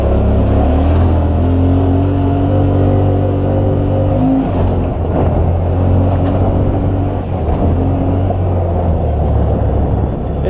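Dirt bike engines revving on a trail ride, a loud continuous motor roar with pitch rising and shifting as the throttle changes, close and steady with no talking.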